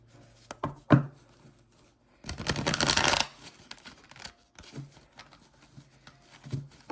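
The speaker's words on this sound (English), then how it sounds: "I need to shuffle a little bit better." A large, unwieldy pile of tarot cards being shuffled by hand: a dense, riffling burst of about a second, with scattered soft taps and handling clicks before and after, close and fairly quiet.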